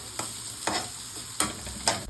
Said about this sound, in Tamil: இதையும் சேர்த்து நல்லா வதக்கிக்கோங்க.